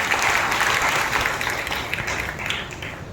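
A church congregation at a Sunday harvest festival service claps loudly together, a dense, continuous burst of applause that fills the room and slowly eases toward the end.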